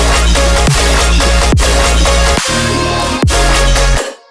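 Dense electronic song built from layered resampled synth sounds plays loud and continuous, thick sustained tones with a few sharp hits marking section changes, cutting off abruptly at the end.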